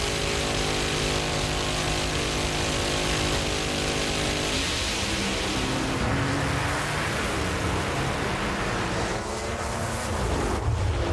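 Supercharged Top Alcohol Dragster making a full 5.34-second, 266 mph pass at a drag strip during national eliminations, a loud, continuous engine roar heard close and overwhelming, shifting in tone partway through the run.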